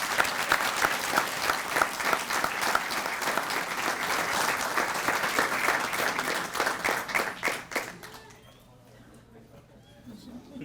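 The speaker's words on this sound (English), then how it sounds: "So give them another round of applause." Audience applause at a police promotions and swearing-in ceremony, a dense sustained clapping from a crowd lasting about eight seconds before fading into quiet room tone.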